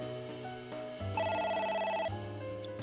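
A telephone ringing in the video game AI: The Somnium Files, a clear electronic trilling ring that starts partway through and sounds over a layer of background game music, with no talking.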